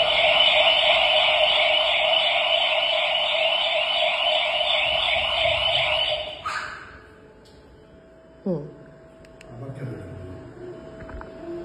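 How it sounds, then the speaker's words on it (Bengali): A loud, steady electronic burglar alarm rings continuously for several seconds, then cuts off abruptly, leaving a quiet room with faint tones and small noises. "এই যে অ্যালার্ম বেজে গেছে।"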